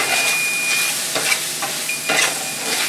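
Lean sausage with butter and a sprinkle of flour browning in a pan, a loud continuous sizzle broken by several scraping stirring strokes close up.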